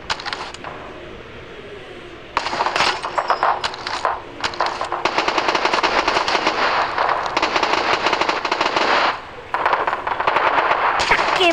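Rapid automatic gunfire from the mobile shooter game Battle Prime rattles in dense bursts with brief pauses, loud and close, mixed with smaller game effects.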